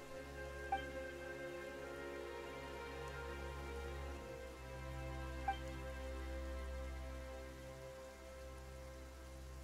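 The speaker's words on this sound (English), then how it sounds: "Why is it raining all of a sudden?" In the Genshin Impact video game, sudden rain patters steadily on surfaces at a low level, with a soft sustained hiss and a couple of faint drip ticks over a low droning background tone.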